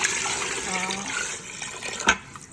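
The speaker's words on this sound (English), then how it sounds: "And I'm going to add a little bit of water." Water pours from a tap into a pan of sauteed onion, garlic, ginger and cumin seeds, a steady splashing gush for a couple of seconds ending with a small clunk, while a person speaks.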